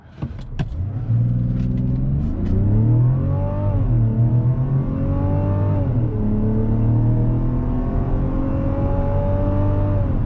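A 2024 Mazda CX-90 SUV accelerates hard from 0 to 60 mph through a turn, engine revving up through rising tones with a gear shift dip, loud and close inside the cabin after a brief clunk at the start.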